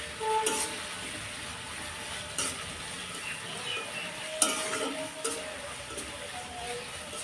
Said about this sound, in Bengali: কয়েক টুকরো দারচিনি আর 3-4টে মুখ ফাটানো এলাচ দিয়ে একটু নাড়াচাড়া দিয়ে রাখবো